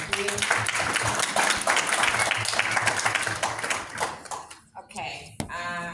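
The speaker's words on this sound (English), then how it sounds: "Okay, a big round of applause." Lecture audience applauding loudly and steadily for several seconds, broad dense clapping that tapers off near the end as a voice begins to speak over it.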